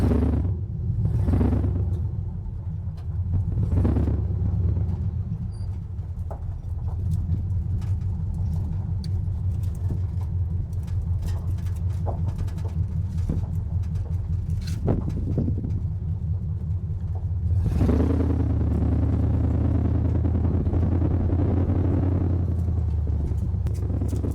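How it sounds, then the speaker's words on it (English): A 1972 Chevrolet C10 pickup engine runs as the truck is driven, a steady low rumble that stays loud throughout and swells at about 1, 4 and 18 seconds, with no talk over it. "Let's pull this thing out. take this for a spin real quick."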